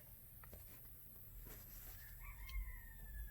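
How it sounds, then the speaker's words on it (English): A rooster crows with chickens clucking, set against a steady background hum; a clear drawn-out crow rises near the end, fairly close and moderately loud, with no talking. "if you birds don't be quiet."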